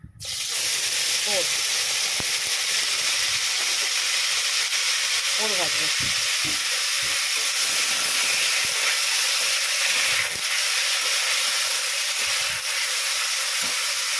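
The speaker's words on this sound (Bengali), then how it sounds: "সর্ষে ফোড়ন দিয়ে তেল বসিয়ে দিয়েছি সর্ষেটা গরমও হয়ে গেছে এর মধ্যে দেবো" Food dropped into hot oil with tempered mustard seeds, producing a loud, steady, broad sizzle and hiss that persists throughout, with faint speech and occasional clinks underneath.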